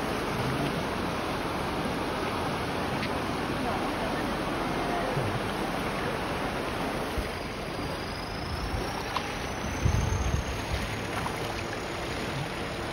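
Strong floodwater from the 2024 flood in Li district, Thailand, rushes steadily in a continuous broad roar, with a few faint knocks and splashes near the end.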